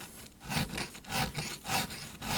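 A hand file rasps across the cutters of a chainsaw chain during sharpening, each stroke rising and falling in a steady rhythm of about four close, moderately loud strokes with no talking.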